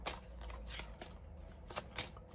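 Oracle cards for a chakra reading shuffled by hand in a few quick riffling bursts, soft and close in a quiet room.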